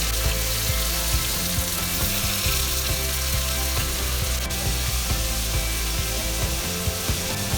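Cinnamon, cloves and onions sauté in oil in a cooker with a loud, dense, continuous sizzle and crackle, under faint rhythmic scraping of a spoon stirring them.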